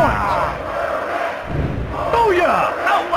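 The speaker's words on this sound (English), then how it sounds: "Listen to this capacity crowd!" A capacity crowd in a wrestling arena roars and cheers loudly throughout, with surging waves of shouting from the full stands.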